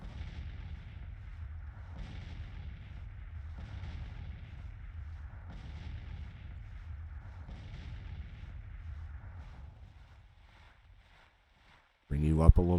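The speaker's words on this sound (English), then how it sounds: "Our guns are firing into them now." Civil War cannon fire from the Grand Tactician battle at Glorieta Pass booms low and muffled at a steady interval of a couple of seconds. A short quiet gap follows, then a sharp closing noise.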